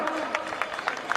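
Crowd applause at an outdoor 5K run event as a pigeon is released, dense clapping that continues steadily through the short moment, with voices mixed in.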